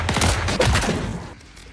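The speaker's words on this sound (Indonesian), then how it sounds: "Para pasukan bayaran pun membalas dengan menembaki Ray, sehingga membuatnya terjatuh." Mercenaries open fire in an action film scene, a dense burst of rapid gunshots filling the opening second, then fading to a quieter tail as the volley ends.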